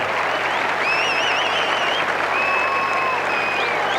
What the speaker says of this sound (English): Pablo Dinizio has the rafters ringing with applause for scoring a try.